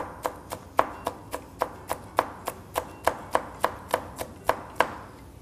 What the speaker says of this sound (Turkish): ince ince doğrayalım.